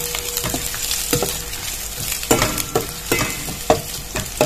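Two dried chilies and garlic fry in hot oil for mustard greens, steady sizzle under repeated scraping strokes of a spatula against the pan, close and fairly loud with uneven rhythm.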